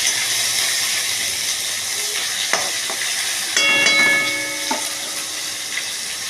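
Tomatoes frying in a pan with salt and asafoetida, a loud steady sizzle with a few knocks and scrapes of stirring and a brief metallic ringing partway through.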